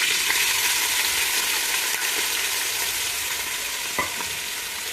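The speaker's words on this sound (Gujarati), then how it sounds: "ડુંગળીને આપણે થોડી વાર તેલમાં સળવા દઈશું" Onions and curry leaves fry steadily in hot oil for potato poha, a loud, continuous close-up sizzle with faint crackles and no voices.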